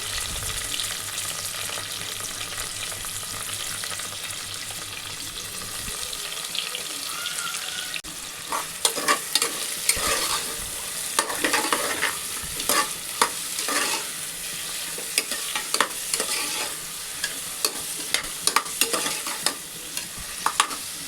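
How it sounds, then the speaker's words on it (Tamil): Onion frying in hot oil with cumin and fennel seeds for a homemade pasta dish: close, continuous sizzling with frequent stirring scrapes and clatter, a low hum at the start and a running-water wash underneath. "நெக்ஸ்ட்டு ஆனியனை போட்டு நல்லா வதக்கிக்கலாம்."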